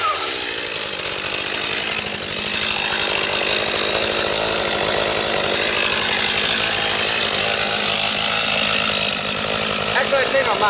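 A Stihl MS 251 C chainsaw cutting into a tree, a loud, close, continuous engine roar held at high revs for about ten seconds after a brief dip near the start, with a voice faintly present under it.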